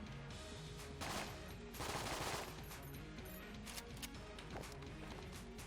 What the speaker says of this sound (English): shoot this chest